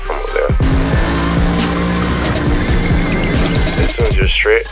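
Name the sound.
race car lapping Bathurst, tires squealing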